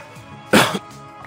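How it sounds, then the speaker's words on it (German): A single sharp cough lands close to the microphone, a short loud burst between quieter background sounds, during a Minecraft gaming session. "Hör auf, mir ins Mikrofon zu husten."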